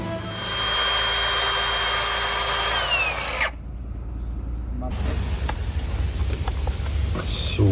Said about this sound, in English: And now we're going to tighten the bolts to about